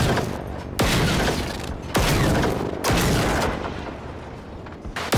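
Sniper rifle shots fired at machines in the Generation Zero video game, four sharp, loud blasts spaced roughly a second apart, each followed by a booming rumble and echo.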